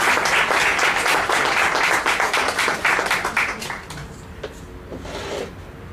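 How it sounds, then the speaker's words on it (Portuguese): Loud applause from an audience welcoming a linguistics professor at a university science talk event, dense clapping near and steady for about four seconds before thinning out into scattered claps. "Vamos acolhê-lo com uma salva de palmas"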